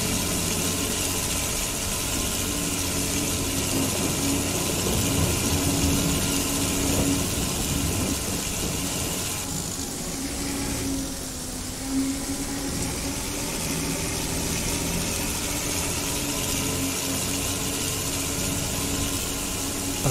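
Steady tractor engine drone from an Indian Arjun 555 mod in Farming Simulator 22, a constant mid-pitched hum with a faint whine, running evenly for twenty seconds with no talk.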